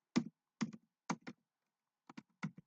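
Quick clusters of keystrokes on a computer keyboard, close and crisp, coming in short bursts separated by brief pauses.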